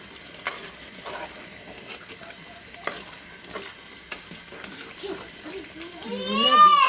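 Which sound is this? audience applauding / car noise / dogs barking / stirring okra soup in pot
stirring okra soup in pot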